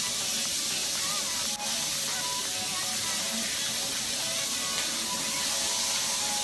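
Shrimp sizzle in a frying pan with garlic paste, giving a steady, close, continuous hiss with a brief clatter early on.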